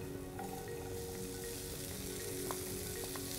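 Peas, beans and carrots are added to paprika, coriander and cinnamon frying in a pan for a Moroccan-style mint sauce with paneer, making a continuous close sizzle with a few faint clinks and no talk.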